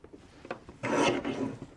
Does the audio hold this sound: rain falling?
no